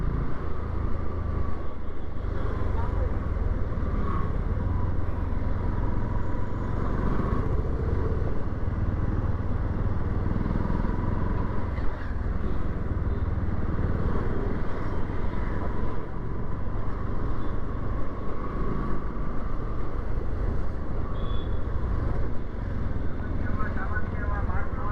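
Bajaj NS160 motorcycle engine idling steadily with a low continuous rumble throughout, the idle reportedly jumping toward 2000 RPM on start and a malfunction light flickering on and off; a voice talks over it.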